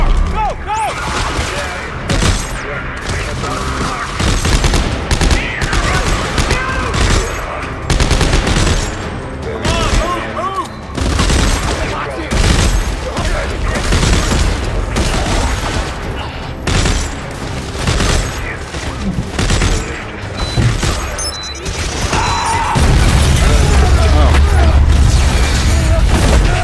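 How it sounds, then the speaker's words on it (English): Gunfire and explosions from the video game Dead Space 3 form a loud, dense stream of rapid shots, thuds and mechanical clatter, with a heavier blast near the end. "I could tell those were grenades that he could shoot"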